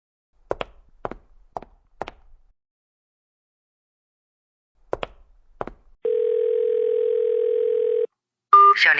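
Several light taps like keys being pressed come first, then a steady telephone dial tone holds for about two seconds, followed by a short burst of tones as a call is placed.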